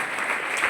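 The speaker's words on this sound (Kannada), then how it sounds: "ಜೋರಾದ ಚಪ್ಪಾಳೆ ಕೊಡಿ" An audience at a women's college ceremony in Jamkhandi, honouring rank holders, breaks into applause, a dense and steady wash of many hands clapping together for a brief moment.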